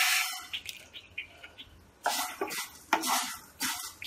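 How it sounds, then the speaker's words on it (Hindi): Vermicelli is dropped into two spoons of hot oil in a pan. After a few faint clinks, it sizzles loudly in bursts as it is stirred and roasted, with scraping strokes between the surges. "तेल गरम हो चुका है। अब हम इसमें डालेंगे सेवैया।"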